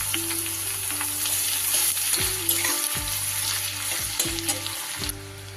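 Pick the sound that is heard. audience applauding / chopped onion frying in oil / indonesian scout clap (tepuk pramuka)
chopped onion frying in oil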